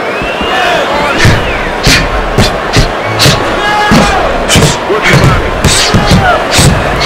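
Punches landing in the Fight Night Round 4 boxing video game, repeated heavy thuds in uneven flurries during an exchange of blows at the Royal London Theatre, over a constant loud crowd roar.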